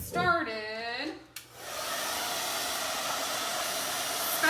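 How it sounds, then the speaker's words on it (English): A blow dryer roars steadily while drying paint on patriotic truck yard art, switching on after a short stretch of speech and then running loud and continuous to the end. "Now I'm gonna have to hit this with a blow dryer just for, I don't know, maybe 30 seconds to a minute"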